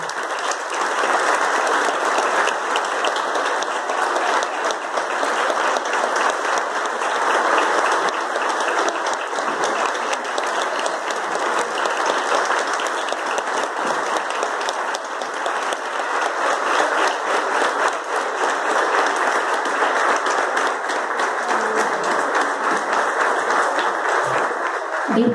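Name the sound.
audience applause at a school flag ceremony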